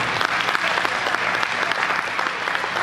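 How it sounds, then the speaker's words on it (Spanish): An audience claps for Janet, a thick, even wash of applause filling the room at moderate loudness with no pauses and no voices standing out. "quiero que me den un aplauso a Janet también"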